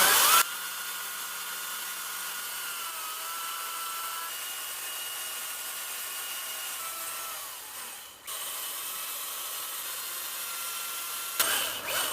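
A battery-powered chainsaw cutting into wood during carving, its steady high motor whine running nearly continuously, dipping briefly midway, then revving again near the end.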